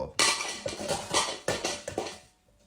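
Enamel pot falling and clattering, a burst of metallic bangs and rattles in quick irregular succession, close and loud at first, then dying away into quiet.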